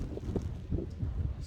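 Wind buffeting the microphone on a rainy, snowy night walk at 2:30, a low rumbling roar that swells and fades in uneven gusts, close and moderately loud.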